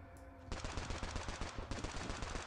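Rapid automatic gunfire from the mobile shooter game Bullet League, a quiet stretch giving way to a sustained burst of closely spaced shots, with a short pause before the firing resumes.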